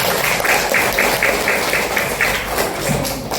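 Schoolchildren in a classroom clap in quick rhythmic bursts, a run of evenly spaced loud claps close by that loosens into scattered clapping toward the end.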